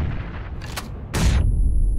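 In the game PUBG, grenade blasts go off in two sharp bursts, each with a crackling high burst and a heavy low rumble that lingers to the end.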